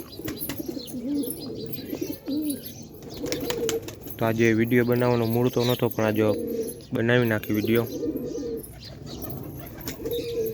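Low pigeon coos murmur in the background while a person talks over them, with occasional chirps and wing flutters.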